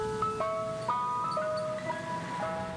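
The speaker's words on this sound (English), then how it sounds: "it's the jingle of your friendly neighborhood ice cream truck" An ice cream truck jingle plays a bright, tinkling electronic melody of short chime-like notes in a steady tune, moderately faint and heard alone.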